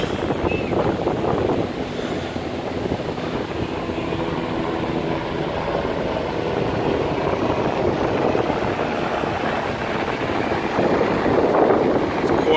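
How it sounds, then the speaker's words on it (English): Steady, loud wind buffeting the microphone at the north end of Merriweather Beach, a continuous low rumble and roar with surf-like washing throughout, and no voices. "Windy up here, so hopefully there's not too much wind noise for you."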